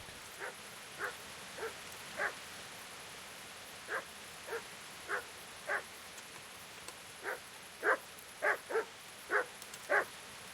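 Dog barking in the medieval game Kingdom Come: Deliverance, a string of single short woofs at uneven intervals, moderately close and growing louder and quicker toward the end, with no talk over it.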